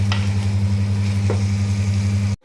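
Masala with Kashmiri chilli sizzles in a pan as it is stirred for homestyle chicken curry. A steady, close frying hiss runs over a low hum, with a few faint scrapes.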